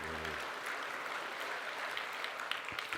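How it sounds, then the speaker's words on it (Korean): A church congregation claps together during a Sunday service in continuous, dense applause that stays steady throughout. "감사 박수 한번 해요"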